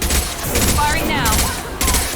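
Rapid bursts of weapon fire in a firefight in the video game Mass Effect 2, crackling loudly across the whole moment, with battle voices mixed in.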